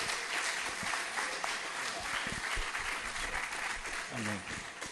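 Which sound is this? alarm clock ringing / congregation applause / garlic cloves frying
congregation applause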